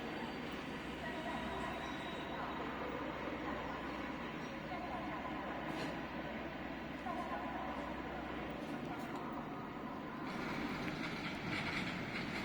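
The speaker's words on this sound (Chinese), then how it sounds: "马上前面开过来高速动力列车。" A high-speed multiple-unit train arriving at Nanchang station at night, heard as a steady loud rumble of wheels on track with rising mechanical noise and hiss, while a voice talks faintly in the background.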